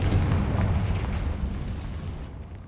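Confringo spell explosion in Hogwarts Legacy inside a cave, a heavy deep boom with rumbling low-end that rolls and slowly decays over nearly three seconds, loud and close.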